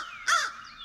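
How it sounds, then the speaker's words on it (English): A single loud, harsh caw from an American crow, close and clear against a quiet background. "American crow. I know you all know what a crow sounds like. Just loud caws."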